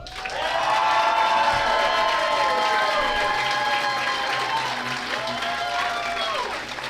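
A luncheon crowd at a radio Hall of Fame induction ceremony cheers, whoops and shouts loudly and continuously, with voices calling out over sustained applause.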